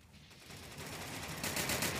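Gunfire from the World War Heroes video game on a snow map, a dense crackling burst that grows louder toward the end, with no talking.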